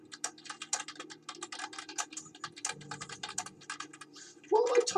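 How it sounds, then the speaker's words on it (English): Rapid clattering keystrokes on a computer keyboard, continuous and close, with a brief voice at the end. "What am I typing again?"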